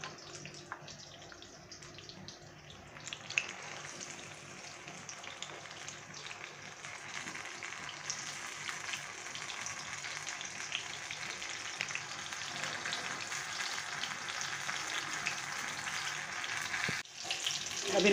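Eggplant pakoras deep-fry in oil over a medium flame, a steady crackling sizzle that builds and stays dense throughout.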